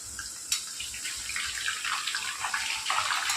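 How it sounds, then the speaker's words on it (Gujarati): Salt water poured into hot frying oil splashes and sizzles with a steady hiss, a sharp burst near the start, continuous and fairly close, with no talking. "પાણી નાખતી વખતે થોડોક હાથ આપણે દૂર રાખીને નાખીશું"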